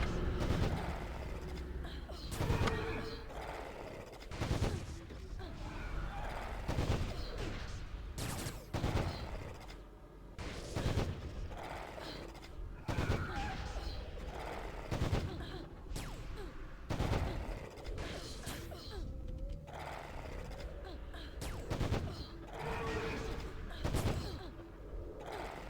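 Turrets firing in an online game, repeated sharp bursts of gunfire at uneven intervals under continuous game sound, with people talking throughout.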